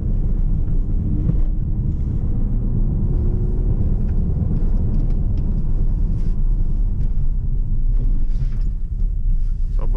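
A Skoda Superb diesel with a manual gearbox drives on, its cabin filled with a loud, steady low engine drone and road rumble that holds constant throughout.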